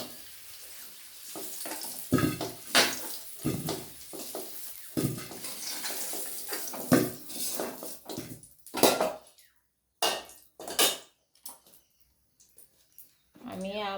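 Metal utensils clink and scrape against a pan as fried potatoes for a mutton curry are lifted out, in sharp, irregular knocks with soft kitchen noise and pauses between them.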